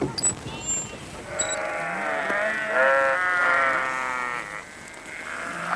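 Sheep in Kent, on the east coast of England, bleat in a long, wavering cry, fairly close and clear, with a faint chirp of birds in the background.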